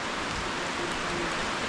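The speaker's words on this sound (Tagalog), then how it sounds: "Yung ganitong ulan, napakalaking tulong to sa mga tanim natin." Steady rain falls outdoors over planted fields of napier grass, a dense even hiss of drops on surfaces that holds constant and close throughout with no voices.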